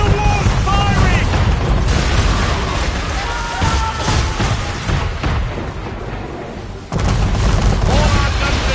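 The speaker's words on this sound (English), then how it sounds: "We're under attack! Man of war's firing!" A man-of-war warship fires its cannons in a naval battle in Assassin's Creed 3, heavy booms and rumbling blasts layered over constant battle noise and shouting voices, with a sharp new burst near the end.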